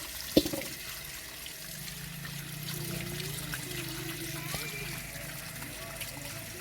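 Running water pours steadily over freshly pulled turnips as soil is rinsed off them outdoors in a village, a continuous wash with a sharp knock near the start and a voice faintly underneath.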